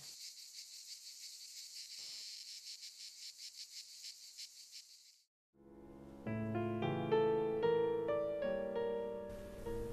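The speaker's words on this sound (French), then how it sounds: "Ce sont des cigales, mon ange." Cicadas singing in Algeria: a dense, pulsing buzz that holds steady for about five seconds and then cuts out, after which soft melodic music takes over.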